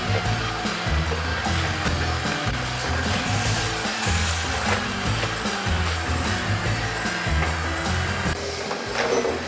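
A robot vacuum runs along the floor's edges with a loud, steady whir and a rhythmic, pulsing mechanical hum, heard up close with no voices.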